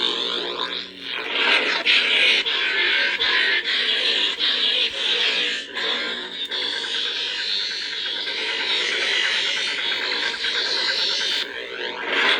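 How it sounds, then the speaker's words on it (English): A buzzing lightsaber hum from the ancient saber sound font runs continuously, rising and surging in places as the blade is swung, loud and close with no speech. "This is the ancient saber sound font."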